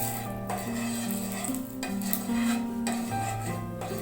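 Oil being spread around a hot pan on a gas stove before making tomato dosa, a steady scraping, rubbing sizzle close up, with a continuous tonal hum in the background and no talk.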